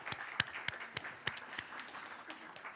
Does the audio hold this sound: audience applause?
yes